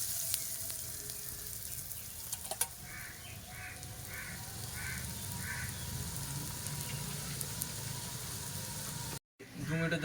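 Egg and boiled potato frying in a little oil in a pan, a steady close sizzle that runs throughout, with crows cawing faintly in the distance and a brief dropout near the end.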